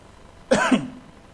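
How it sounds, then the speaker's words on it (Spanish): A single short, sharp cough up close, alone against a quiet background. "perdón por la tos"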